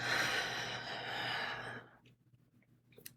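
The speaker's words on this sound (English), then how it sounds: "Breathe in through your nose. Hold. And release." A slow, deep inhale through the nose during a breathing exercise, an airy rush lasting almost two seconds before it fades into near silence with a few faint clicks.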